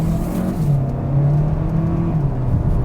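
A 2022 Hyundai Kona N-Line accelerating hard as its transmission downshifts, a loud steady engine drone heard from inside the cabin, with the tone rising and stepping between gears.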